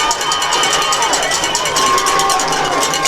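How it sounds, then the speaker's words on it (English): A high school football crowd at Danville cheers loudly and steadily in the stands, a continuous roar of voices with cowbells clanging through it, close and dense throughout. "Danville crowd getting into it"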